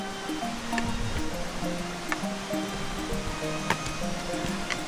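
Little Nerang Creek flowing at the bottom of a mountain trail, a steady broadband rush of water that holds throughout, with occasional small knocks over it.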